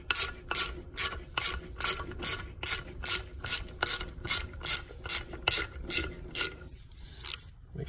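Ratchet wrench loosening the bolt on a valve spring compressor from an LS240 engine, a steady run of about fifteen evenly spaced sharp clicking strokes, close and loud, ending with a brief pause and one final click.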